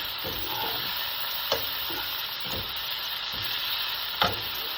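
Beans with garlic sizzle steadily in a frying pan while a utensil stirs them, scraping strokes recurring every second or so over the constant close frying hiss.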